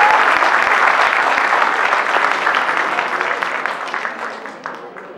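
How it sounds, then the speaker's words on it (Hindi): Loud applause rises from the crowd at a government art college alumni meet in Chandigarh, a thick wash of clapping that starts strong and gradually tapers off over several seconds. "यहां के कॉलेज के लिए जोरदार तालियां।"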